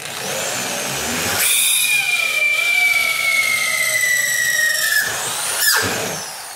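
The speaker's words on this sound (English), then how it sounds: "Now see how fast that drilled that 3/8 hole?" A Kimball Midwest Cryo Gen reamer in a power drill bores a 3/8 inch hole, a loud, close, steady high-pitched whine rising after a brief start and stopping abruptly near the end, with a short rattle afterward.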